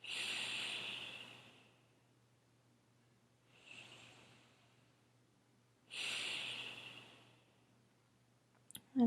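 Slow, deep breaths during a hamstring-focused yoga practice, close and soft: a long exhale, a quieter breath, then another full breath in a relaxed rhythm, with a brief click at the end.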